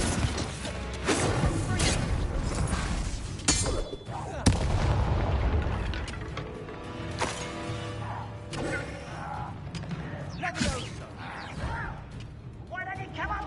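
In the Hogwarts Legacy video game, a Bombarda explosion spell goes off with sharp booming blasts and crashing impacts amid clattering combat noise.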